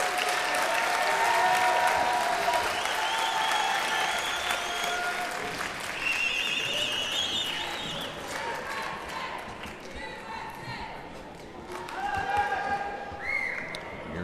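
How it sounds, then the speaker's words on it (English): French spectators at the table football World Cup men's nations quarter-final applaud and cheer, with dense clapping loudest at the start and easing off, then swelling again near the end, while commentary runs over it. "The French crowd completely involved."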